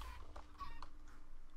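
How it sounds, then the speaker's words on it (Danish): Clucking from a chicken in the Minecraft video game: a few short, nasal clucks over a steady background bed of game sound, fairly faint, with no one talking. "den der kylling døde lige foran mig"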